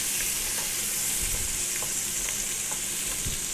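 Carrots fry gently in a pan with a continuous soft hiss and low sizzle, while a few light scrapes and taps of stirring come through close by, with no voices.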